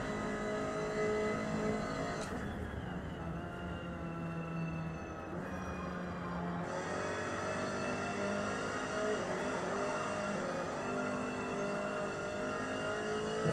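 A race car engine in the racing game Forza Motorsport 2023 holds a steady high drone through an online race, rising as the throttle opens and dipping briefly on a gear change, loud and constant with no talk over it.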